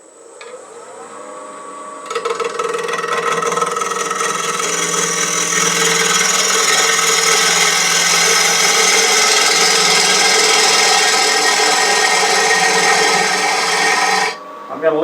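A bowl gouge cuts spalted wood on a lathe in one continuous loud, close scraping rush lasting about twelve seconds, with no talking.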